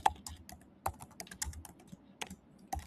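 Keystrokes on a computer keyboard during a Python programming lesson, irregular clicks with a few louder key presses, close and fairly quiet, with no talking.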